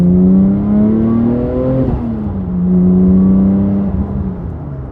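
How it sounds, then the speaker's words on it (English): A 2002 Porsche 911 GT2 (996) engine with aftermarket exhaust drones loudly up close, wastegate audible, its pitch climbing, dipping, then rising again before settling. "with that aftermarket exhaust, you can really hear the wastegate"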